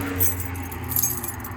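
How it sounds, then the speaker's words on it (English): Bunch of keys jangling close by in an RV engine bay, a short continuous metallic clinking and rattling. "Look how many keys I have."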